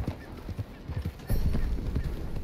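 Horse hooves clip-clop in a video game, a steady run of close, soft hoofbeats that grow louder and busier partway through, with no talk over them.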